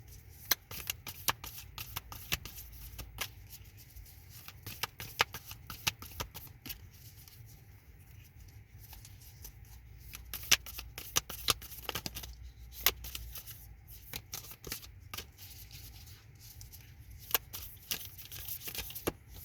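Tarot cards are shuffled by hand in a quiet room, a long run of soft, irregular papery riffles and snapping clicks that continues close and unbroken for the whole stretch.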